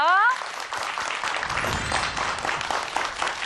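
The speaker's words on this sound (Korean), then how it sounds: "큰 박수로 맞이해 주세요" A studio audience breaks into sustained, loud applause as a guest teacher is welcomed onto a television stage, a dense wash of many hands clapping together right after a brief voice.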